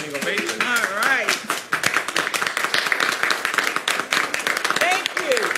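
A standing ovation at a public investment announcement for Ottawa Towers and Phoenix Center: dense, continuous clapping from a crowd, close and loud, with voices cheering and chattering over it.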